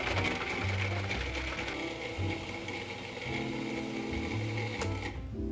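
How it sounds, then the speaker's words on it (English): An electric food processor runs steadily, whirring and rattling as it chops ingredients for kale pesto into fine, sand-like grains, a continuous close mechanical drone with a slight uneven churn, then cutting off near the end. "drop it into a food processor and allow it to chop up to become like fine grains of sand"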